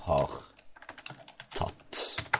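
Someone types on a computer keyboard in quick bursts of key clicks while someone speaks Norwegian over them, close and clear.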